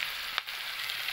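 Small pieces of boiled taro (mankochu) fry in hot oil with black cumin in a home kitchen, giving a steady, close, hissing sizzle with one brief clink.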